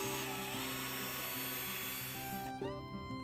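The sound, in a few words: drill pre-drilling wood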